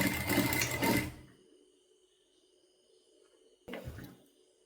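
A sewing machine runs briefly while stitching the lining of a child's top: a short close burst of whirring, then near silence, then a second quick burst.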